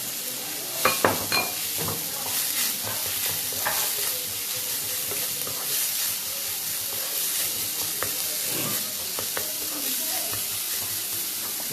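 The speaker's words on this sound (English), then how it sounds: "Now I am going to add the jackfruit." Jackfruit added to a hot pan of oil and stirred, giving continuous loud sizzling and hissing with scraping stir strokes and utensil clinks close by.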